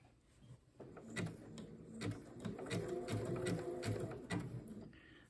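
A sewing machine runs a zigzag stitch, appliquéing a fabric hexagon onto a sweatshirt, its needle mechanism whirring in a quick rhythmic chatter close by, with a few clicks at start and end and no speech.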